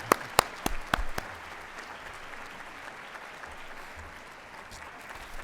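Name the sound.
audience clapping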